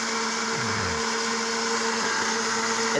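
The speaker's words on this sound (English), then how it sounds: "I have to keep my hand there just to keep the blender from" A countertop blender grinds ice into snow, its motor whining loudly and steadily while the blades churn and rattle the frozen chunks, with a brief falling pitch early on and no talk.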